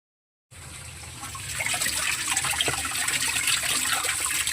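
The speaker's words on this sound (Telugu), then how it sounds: "ఇప్పుడైతే ఇందులో నీళ్ళు అయితే పడుతున్నాను." After a brief silence, water pours into a washing machine drum in a close, continuous gushing rush that swells slightly and stays steady to the end.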